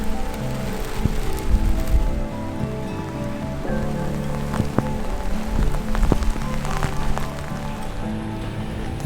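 Rain falls at a camp in the Colorado mountains on a stormy evening, a close, steady patter with sharper drops striking nearby surfaces throughout.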